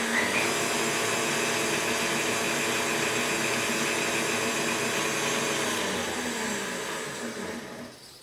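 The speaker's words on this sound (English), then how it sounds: "Next, blend in 1½ teaspoons of vanilla extract." An electric hand mixer whirs steadily as vanilla extract is blended into egg-rich batter for a chocolate chip banana cake, a continuous close motor drone that trails off near the end.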